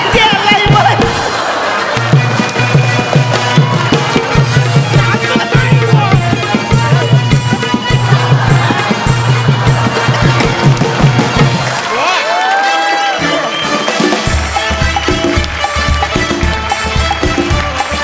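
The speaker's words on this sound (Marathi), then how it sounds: "जोरदार टाळ्या" A live comedy-show audience cheers and shouts loudly alongside rhythmic music, with a crowd roar throughout and a brief lull before the music and noise return.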